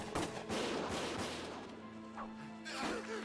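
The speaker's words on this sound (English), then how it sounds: "Gunfire!" Gunfire rattles through a battle in the Valkyria Chronicles video game: sharp shots and crashing impacts come in uneven bursts over a dense, loud wash of combat noise.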